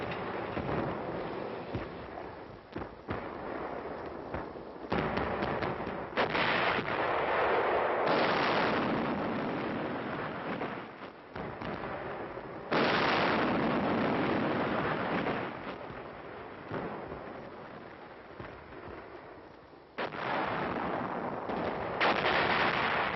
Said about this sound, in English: move in and lay down a barrage. The attack begins.